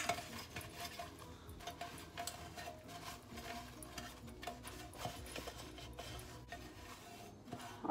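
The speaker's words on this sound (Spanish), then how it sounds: "Me ayudo de esta servilleta para poner en todos los orificios del molde, asegurarme de que todo quede bien con mantequilla." A paper napkin spreads butter into the holes of a ring cake mould for a chocolate rosca. The rubbing is soft, continuous and scratchy, faint and close, with light knocks from the mould.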